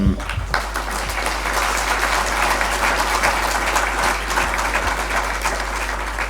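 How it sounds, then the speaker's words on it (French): An audience applauds a speaker at a conference, with continuous crowd clapping that stays steady and fairly loud throughout, over a constant low hum. "On peut encore vous applaudir."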